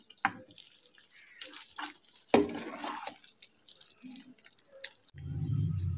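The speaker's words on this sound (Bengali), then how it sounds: "এবার আমরা এটা সার্ভিং বলে ঢেলে নেব।" Chicken rezala curry is poured from a cooking pot into a serving bowl, giving scattered wet drips, splats and scrapes, fairly close and quiet, ending in a short run of thicker liquid flow.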